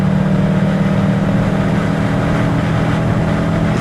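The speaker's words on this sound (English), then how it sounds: "Is this a Caterham or a Lotus 7?" A Caterham or Lotus 7 on the Snetterton track roars past at speed, a loud, steady engine drone filling the whole stretch close by.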